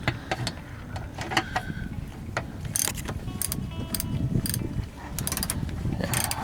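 Close ratchet clicking in rapid bursts as valve body bolts on a 2006 Ford F-150 transmission are turned, with brief metallic taps between runs and no talk.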